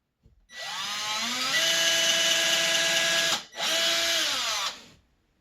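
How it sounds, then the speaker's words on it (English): A power drill whirs loudly and close, drilling holes into a wooden wall to mount guitar hangers, spinning up to a steady high whine, cutting out briefly, then running again before stopping. "now we'll drill the holes in"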